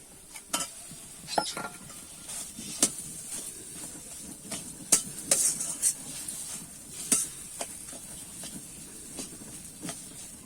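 Boiled mango and mashed potato being stirred in a hot pan for mango chops, with a light sizzle under irregular scrapes and metallic clinks of the spoon against the pan.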